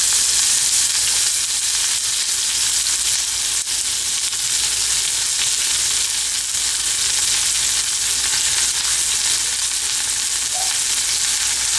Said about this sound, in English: Now first I am going to fry our chopped red onions.